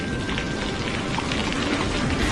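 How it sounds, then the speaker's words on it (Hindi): Heavy rain pours down steadily in a village with potato fields nearby, a dense, unbroken hiss and patter that stays loud and even from start to finish. "ये बारिश तो बढ़ती ही जा रही है।"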